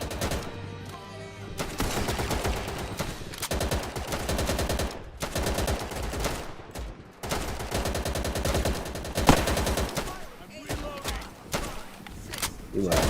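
Rapid bursts of automatic gunfire and single shots from the World War II shooter Easy Red 2, dense and loud throughout with brief pauses between volleys, mixed with game sound effects.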